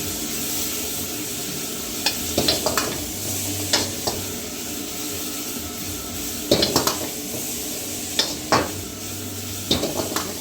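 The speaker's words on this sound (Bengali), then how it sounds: "এর মধ্যে এবারে আমি ফ্রাই করা ফিশগুলো দিয়ে দেবো, দিয়ে ভালো করে ক্রস করে নেব।" Fried fish tossed with white pepper in a pan, giving a steady sizzle with repeated clinks and scrapes of a utensil against metal, close and with no talking.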